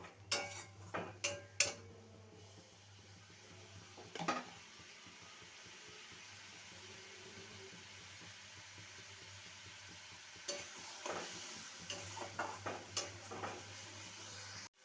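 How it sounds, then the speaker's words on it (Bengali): Spice masala cooking down with a little water in a pan for a vegetarian drumstick curry, soft intermittent spoon scrapes and clinks against the pan over a faint low simmer, quiet and close, no voices. "জল দিয়ে সমস্ত মশলাকে ভালো মতন কষিয়ে নেব"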